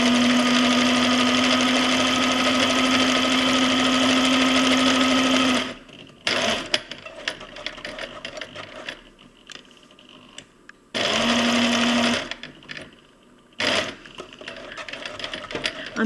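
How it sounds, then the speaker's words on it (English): A sewing machine zigzag-stitches along the sew line of a cloth pad, running in steady loud bursts of about five seconds, stopping, then starting again briefly with quieter handling noises in between. "we'll start by zigzagging along the core line, along the sew line, and we'll double back so we've got a nice sturdy stitch"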